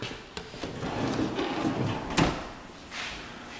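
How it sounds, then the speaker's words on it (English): Soft-close drawers and cabinet doors in a kitchen with a granite island slide and shut with muted wooden knocks. A few light thuds rise over a faint, steady room rumble. "soft closed drawers,"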